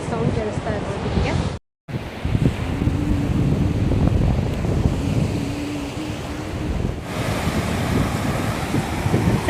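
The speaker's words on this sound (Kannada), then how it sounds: "ನೀರಿನ ಸೌಂಡ್ ಕೇಳಿಸ್ತಾ ಇರ್ಬೋದು ನಿಮಗೆ." Surf rolling in at Malpe beach, Udupi, a steady loud wash of breaking waves with heavy wind buffeting the microphone, broken by a brief dropout near the start.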